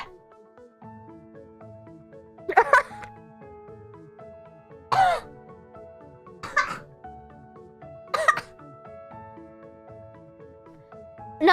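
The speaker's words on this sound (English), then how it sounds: "I was coughing because a seed got stuck in my throat" A person coughing after a dragon fruit seed lodged in the throat, four sharp separate coughing bursts spaced a couple of seconds apart, with quiet tonal music playing in the background.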